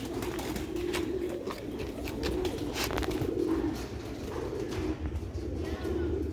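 Sialkoti Kukkar pigeons coo in a loft: a steady series of low, throaty rolling coos repeating close by, with light rustling and no talk.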